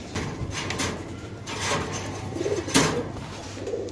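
Pigeons coo softly in a loft, giving a few low, murmuring calls amid light rustling and background noise, fairly close but not loud.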